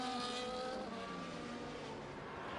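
An F1 race car in the F1 24 game on a fresh set of medium tyres, at the Netherlands Grand Prix, exits the pit lane with a steady high engine whine whose pitch slides downward, fairly faint and with no talk.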